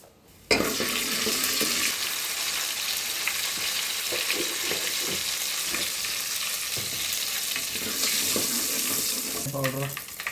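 Curry leaves and cumin sizzle in hot cooking oil for a North Karnataka style chicken sukka, a steady close, loud frying hiss running throughout with scattered crackles and a brief louder burst near the end.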